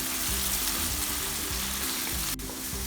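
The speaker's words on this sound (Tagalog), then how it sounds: "So, simmer lang po muna natin ang ating giniling ng 5 minutes" Ground chicken simmers and sizzles in a pan for sotanghon guisado, a steady soft frying hiss with one brief sharp clink partway through.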